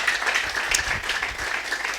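A church congregation applauds in a steady, dense patter of hand claps, moderately loud and continuous for about two seconds, with no clear speech over it.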